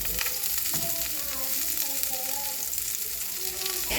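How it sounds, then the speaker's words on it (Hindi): Small chopped cauliflower florets flash-frying in about two tablespoons of avocado oil over a high flame, a dense continuous crackle and sizzle throughout, fairly loud and close, with no voices. "अपनी छोटी छोटी चॉप की हुई गोभी को इसमें गोल्डन होने तक फ्राई करेंगे"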